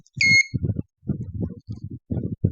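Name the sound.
electronic buzzer sounding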